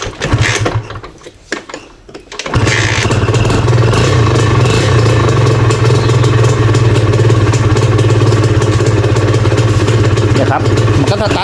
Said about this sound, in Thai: การที่เราบิดคันเร่งแบบนี้นะครับ เสียงแบบมัน ใสกว่ากันเลยครับ